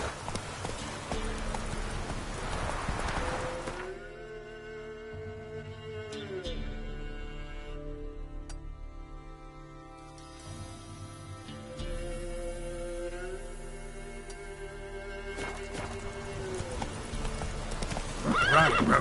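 Roach the horse galloping in The Witcher 3, with steady rhythmic hoofbeats that run almost the whole time, slowing into a trot in the middle before picking up again, plus a whinny and game music underneath.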